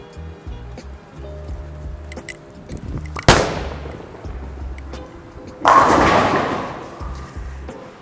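A Storm IQ Tour bowling ball rolls down a bench-line lane shot and crashes into the pins, a sharp loud impact followed by a rattling pin scatter, with a faint musical background.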